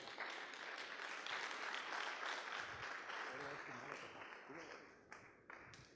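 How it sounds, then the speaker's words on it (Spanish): Church congregation applauding a pastor, broadband clapping filling most of the six seconds at a steady level, thinning toward the end, with some voices mixed in. "vamos a recibirlo con un cálido y afectuoso aplauso"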